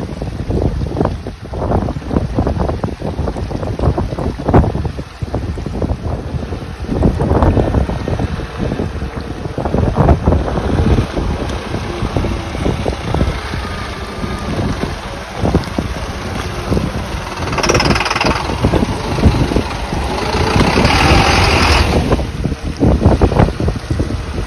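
MAN truck fording a river on a rough remote track, water surging and splashing around the vehicle under heavy wind buffeting on the microphone, with a low engine rumble and bursts of spray throughout.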